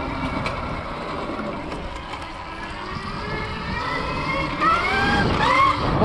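A 72V electric dirt bike accelerates on a test ride, its motor giving a rising whine over a rough wash of wind and tire noise that grows louder toward the end.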